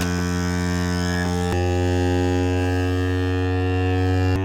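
A DeWalt Grabo suction lifter's vacuum pump runs steadily with a constant electric hum and a buzzing drone, broken by a couple of faint clicks.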